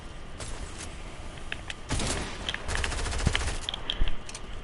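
Heavy shotgun fire in a video game: loud, close blasts in quick succession over constant game noise, rising into a denser burst of shots toward the end.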